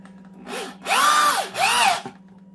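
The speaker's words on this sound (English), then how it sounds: "We got a couple of 3-inch deck screws, so let's just see how it does with these." A DeWalt D21009 corded drill drives a 3-inch deck screw into wood, its motor whining up and down over three short pulses, loud and close, with a steady low hum behind it.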